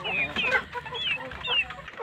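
Free-range village chickens cluck repeatedly in a series of short, close calls, with a few higher squawking notes standing out over a busy farmyard background.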